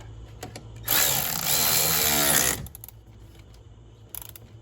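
A power tool tightens the positive battery terminal on a 2004 Dodge Ram 1500 with a 5.7 Hemi, giving one loud, close burst of about two seconds followed by faint clicks.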